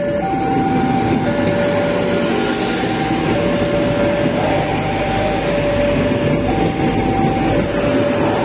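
Wijayakusuma passenger train drawing into Mojokerto station, a steady loud rail rumble with wheel noise and long sustained horn-like tones running throughout, no talking.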